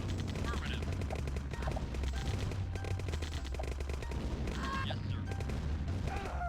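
Nod buggies attack in Command & Conquer, sounding as rapid bursts of game gunfire and machine-gun rattle over a low rumbling drone, with small pings and effects scattered throughout.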